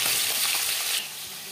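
Katla fish pieces fry crisp in hot oil, a loud dense close sizzle that drops to a softer hiss near the end; no talking.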